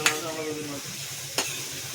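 Food frying in a pan outdoors in a forest, a steady close sizzle with two sharp scraping stirs, one at the start and one midway.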